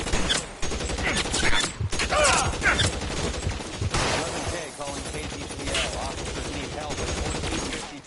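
Gunfire in the video game L.A. Noire during a shots-fired police call: sharp rapid shots and mechanical clacks in loud, uneven bursts, with voices mixed in.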